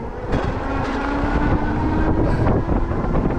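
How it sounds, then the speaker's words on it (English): Loud, steady low-pitched wind buffeting outdoors during a ride on an Engwe Engine Pro electric bike with a hub motor, rumbling continuously close to the microphone with no speech. "It's a little windy out here today."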